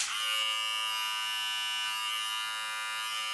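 Steady high-pitched electric buzzing of a Silvercrest hair and beard trimmer running close up, unbroken and fairly even throughout.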